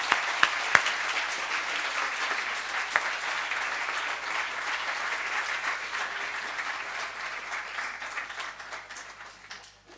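Sustained audience applause at a university tribute ceremony, steady clapping with a few sharp distinct claps early on, gradually fading out over about ten seconds.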